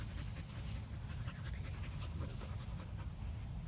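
Close, quick panting from a springer spaniel worn out from running at a dog park by a lake, an even, unbroken rhythm heard on its own.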